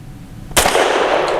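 A Tisas Bantam 9mm pistol fires once, a single loud, sharp crack after a brief quiet lead-in, followed by a sustained ringing echo tail that fills the rest of the moment.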